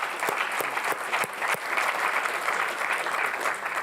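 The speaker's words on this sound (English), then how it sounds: "So let's give Ash and Ewan a round of applause" Conference audience applauds two speakers, a dense, steady round of clapping lasting the whole stretch with a few sharper individual claps on top.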